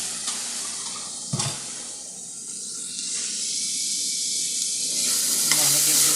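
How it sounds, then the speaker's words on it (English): Sausage and vegetables seasoned with Caribbean dried herbs fry in a pan with a steady, close sizzling hiss, broken by a couple of stirring knocks and scrapes. "I'm going to give this a quick stir now."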